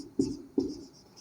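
Chalk or marker writing on a board during a mathematics lecture, two firm strokes about a third of a second apart, close and fairly quiet, with no talk over them.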